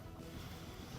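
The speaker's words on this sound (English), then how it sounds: "I can hear some of the bigger wind gusts coming" Gusty wind blows across an outdoor golf course, a broad low roar with steady rumbling buffeting against the microphone.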